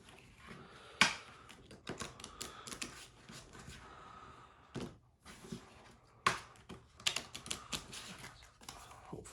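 A deck of playing cards being shuffled at a tabletop wrestling-promoter card game, a quiet run of soft riffling flutters and taps with a few sharper snaps, close by.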